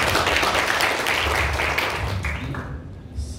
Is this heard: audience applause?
yes